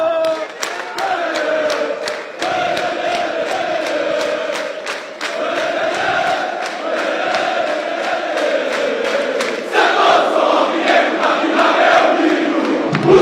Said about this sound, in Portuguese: Vamos cantar o hino do Santos aí,